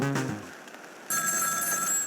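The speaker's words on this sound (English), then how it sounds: "the phone rings." A telephone rings in the puzzle video game Ghost Trick. It gives one brief tone, then a sustained bright electronic ring that fills the second half of the clip, and no one speaks.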